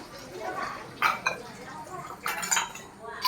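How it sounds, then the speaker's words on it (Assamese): Pots, pans and cutlery clink and clatter as dishes are washed at a village prayer hall before dawn, with scattered bright knocks near the microphone among voices talking. "কি ধুইছা? বাচন ধুইছা?"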